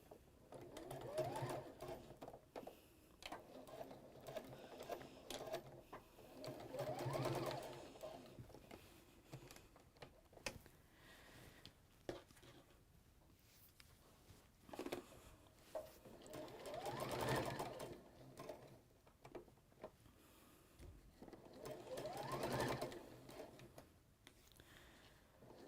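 A sewing machine sews a firm straight stitch through pinned fabric in several short bursts, its motor whirring up and fading between pauses filled with faint handling noise.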